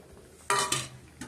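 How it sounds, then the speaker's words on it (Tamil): A spoon stirs a pot of curry mixed with ground coconut and onion, making two loud close scraping strokes in quick succession and a softer scrape just after, over a faint simmer. "இப்போ நம்ம தேங்காய் இதெல்லாம் போட்டு அரைச்சிருந்தா வெங்காயம் அதை அப்படியே மிக்ஸ் பண்ணிக்கணும்."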